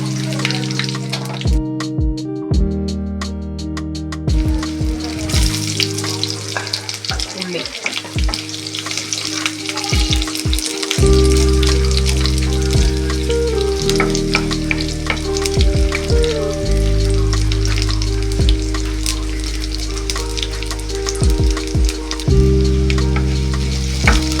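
Steady loud sizzling of curry leaves frying in a spoonful of hot oil, with occasional stirring clatter throughout.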